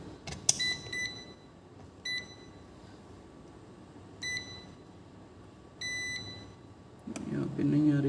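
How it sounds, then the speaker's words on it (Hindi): Multimeter continuity buzzer on a dead MTK phone circuit board, sounding as four short separate beeps spread across the moment, each brief and clear over a low background hum. "और एक बार हम वेरीफाई करते हैं कि बजर साउंड जो है"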